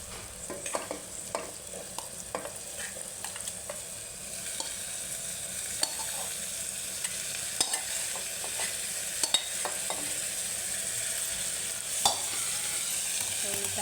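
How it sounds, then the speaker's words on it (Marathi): Boiled cowpeas stirred in a frying pan for a Marathi-style curry, a steady close sizzle with frequent scraping spoon clicks and stirring scuffs throughout, no talking. "आता मी यात हे उकडून घेतलेले चवळी आपण टाकणार आहात यात"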